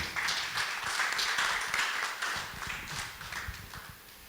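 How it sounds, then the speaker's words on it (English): Applause from a group of attendees at a round table discussion on gold mining in Guyana, a steady dense patter of many hands clapping that fills the room and tapers slightly toward the end. "A big round of applause."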